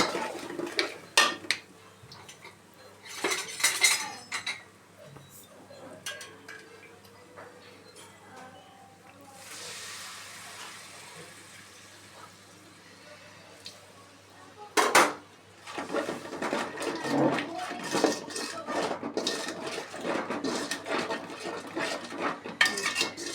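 Spices for beef tehari cooked in mustard oil clatter in a pan, with irregular metal spoon scrapes and clinks in bursts around a quieter stretch of soft hiss.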